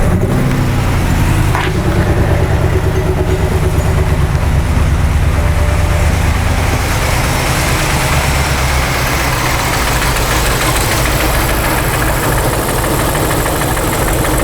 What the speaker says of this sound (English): So let's go ahead and start the car and get some data.